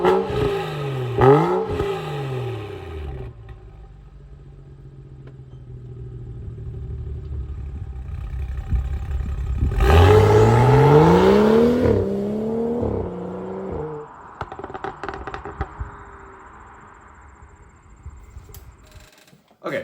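BMW 335i with N55 engine, stock non-M Performance muffler, resonator delete and aftermarket downpipe: two quick blips near the start, then a long climbing rev that peaks loudly and drops back to a burbling idle.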